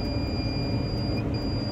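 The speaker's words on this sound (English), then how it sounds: "that beeping you're hearing is my monitor letting me know everything is working" Electronic monitor out in a watermelon field giving a thin, steady high-pitched tone, running continuously and fairly faint over low background rumble.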